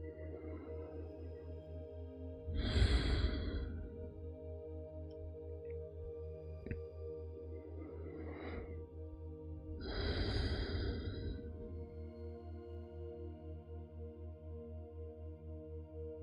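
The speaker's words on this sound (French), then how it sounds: "Prenez quelques profondes inspirations et expirations." Slow, deep breaths during a guided meditation, three soft airy exhalations spaced several seconds apart over a low steady ambient drone, close and gentle, with no talking.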